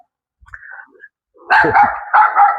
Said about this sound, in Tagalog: Tinahulan na tayo.